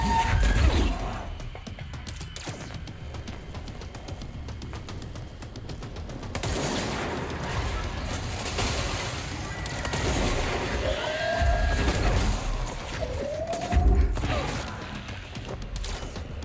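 Gunfire and crashing impacts from the action game Control, a dense, continuous barrage of shots and debris with clattering mechanical noise throughout, no voices.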